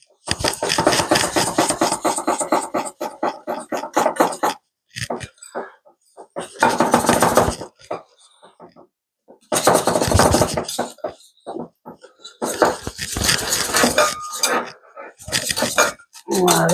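A utensil clinks and scrapes against a bowl in bursts while pancake batter with ham and raclette cheese is mixed, the clatter alternating with pauses and French speech.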